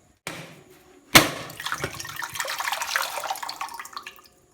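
Water from three or four coconuts is poured out for homemade coconut toddy. A short splash is followed by a sharper one, then a close, steady pour gurgles for a few seconds before stopping.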